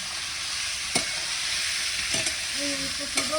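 Fish fries in a pan at an outdoor family picnic, giving a constant hissing sizzle broken by a few sharp stirring clicks and taps near the pan.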